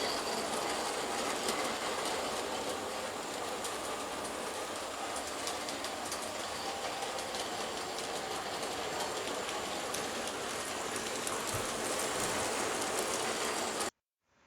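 A G scale model train runs steadily along its track with a continuous rolling, clicking rattle, filling the whole stretch before cutting off abruptly at the end.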